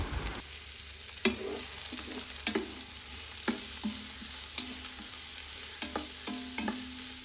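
Onions, cashews and nuts frying in a pan for chicken biryani, stirred with a spoon: steady close sizzle with repeated scraping knocks of the utensil against the pan, no voices.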